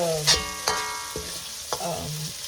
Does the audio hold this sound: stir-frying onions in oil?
yes